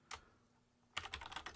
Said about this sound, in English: I'm just typing in some gobbledygook to give us some context here